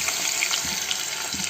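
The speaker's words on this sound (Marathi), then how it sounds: "हे आपले झिंगे आहे चिरलेले ते तेलामध्ये टाकायचे आहे." Chopped prawns sizzle steadily in about two spoonfuls of hot oil for a zhinga masala, giving a continuous bright hiss with no talk over it.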